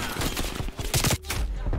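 Rapid automatic fire from a FARA 83 rifle in Call of Duty: Cold War, a dense, loud burst of shots that stops briefly and then resumes, up close with no talk over it.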